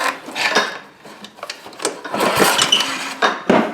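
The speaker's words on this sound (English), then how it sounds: "Now let's pull the starter rope and see if the flash is there at all." Starter rope yanked on a Husqvarna HU800AWD lawnmower with a Honda GCV190 engine that won't start, giving several quick rasping pulls up close with brief sputters but no sustained running.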